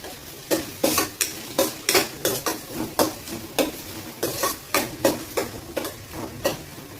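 Ingredients for egg gravy are sautéed in a pan with rhythmic stirring, about a dozen regular scraping strokes of a spoon against the pan over a soft sizzle.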